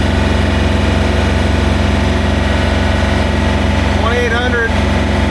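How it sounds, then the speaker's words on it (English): A John Deere 3520 tractor engine runs at high throttle, a loud steady drone filling the whole clip, with a brief voice near the end. "Look at the tack and see what you got for high throttle."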